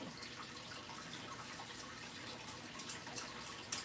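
Steady bubbling and hissing of a sugar mixture for pralines boiling in a pot on the stove, a continuous dense simmer with no voices, fairly close.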